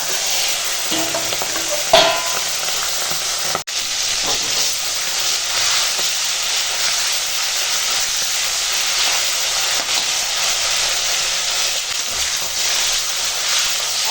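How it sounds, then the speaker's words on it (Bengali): Fish fat (tel potka) frying in fish-frying oil sizzles loudly and steadily throughout, with a couple of brief clanks from stirring near the start. "এখন তেলপাট্টা ভাজা হচ্ছে"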